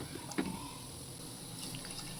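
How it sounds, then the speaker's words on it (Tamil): Water runs quietly from a tap into a pot as a small amount is added for boiling mutton with turmeric and ginger-garlic paste, a soft steady trickle with a faint splash near the start. "கொஞ்சமாக தண்ணி ஊற்றிக்கோங்க நிறைய தண்ணி வேண்டாம்"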